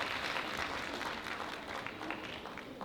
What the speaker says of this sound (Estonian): suur aplaus Jõudra tantsukoor